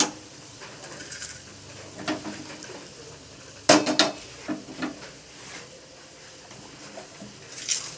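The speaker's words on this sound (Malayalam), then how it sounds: "ഇതെല്ലാം കൂടെ കടുക് പൊട്ടിച്ചതിനകത്തിട്ട് ഒന്ന് ഇളക്കുവാണ്" Green chillies and brinjal being stirred in a pan with spluttered mustard seeds, a few sharp metal clatters of the spoon against the vessel, one loud cluster near the middle, over quiet background.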